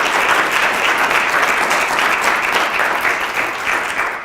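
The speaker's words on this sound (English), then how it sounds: "Can we give them a hand clap?" Steady, dense audience applause fills the room for a few seconds, loud and even throughout, with no break and only a faint trace of crowd murmur underneath as people clap for staff at a community district meeting.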